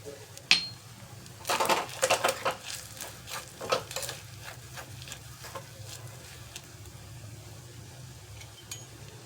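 Grated coconut sautés with turmeric in a pan, with a soft sizzle beneath a cluster of quick spatula scrapes and taps that settle into gentler stirring.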